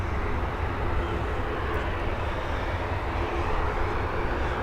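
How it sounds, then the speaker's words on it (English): Airbus A320neo arriving at Dublin Airport from London Heathrow, a steady broadband engine roar held at an even level throughout, with no voices. "our next arrival is going to be an Airbus A320neo coming in from London Heathrow"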